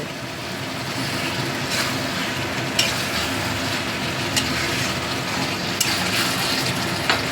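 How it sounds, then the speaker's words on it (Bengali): Masala spices sizzle steadily in hot oil for a Bengali pomfret and onion curry, a dense close frying hiss with occasional stirring scrapes and clicks. "এবার মশলাটা কষাতে থাকবো যতক্ষণ না তেলটা ছেড়ে আসছে।"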